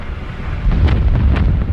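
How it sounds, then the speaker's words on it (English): Spaceship in a Star Trek audio drama bursting apart after a torpedo hit, a deep rumbling explosion that swells and roars with crackling bursts across nearly two seconds. "the Noyad ship ripped itself apart in a ragged spasm of bright yellow fire"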